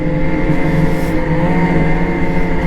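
A 2023 Ski-Doo Renegade Adrenaline long-track snowmobile runs through Maine snow with a loud, steady engine drone that stays close and constant throughout.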